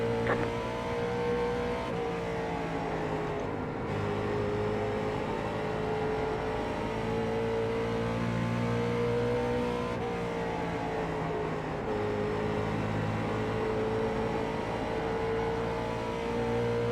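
Late model and super late model race cars in a CARS Tour event at Bristol roar steadily around the track for the whole stretch, a dense, continuous engine drone with layered revving tones and no talk.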